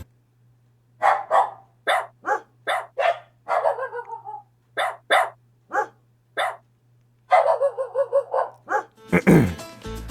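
A person imitates a dog barking with their voice, giving a rapid series of about twenty loud, close barks and yelps in uneven bursts, some drawn into whiny howls, ending in a noisy clatter.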